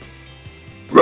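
A voice imitates a big, nasty dog's bark as a false-chord scream technique: one short, harsh, loud burst right at the end after near silence.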